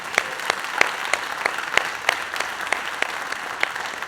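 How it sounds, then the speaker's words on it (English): An audience at a school district program claps steadily, with a dense wash of many hands and some sharper individual claps, moderately close and without talk. "That deserves a round of applause."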